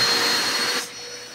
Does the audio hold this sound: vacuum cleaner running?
yes